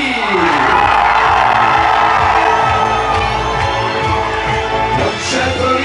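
Loud disco crowd in a Mykonos club shouting, whooping and cheering continuously over pounding dance music, a dense wall of voices with no break.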